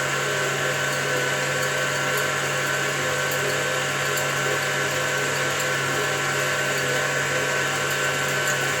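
Loud, steady whirring of an electric mixer whipping egg whites with sugar, running continuously without pause.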